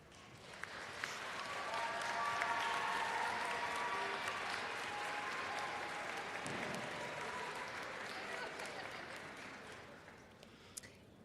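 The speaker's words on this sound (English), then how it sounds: "I invite you to turn and applaud your parents, family, and friends who have supported you through the years." Graduates at a commencement ceremony turn and applaud their parents, family and friends, a broad, sustained wash of clapping from a large crowd that swells early, holds steady, then tapers off near the end.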